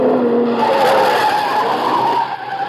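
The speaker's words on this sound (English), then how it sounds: "Car coming down from the house. Yeah, at a good clip, too." A souped-up car speeds down from a house and skids, its tires squealing loudly and continuously over engine roar in a vintage radio-drama sound effect, with no voices.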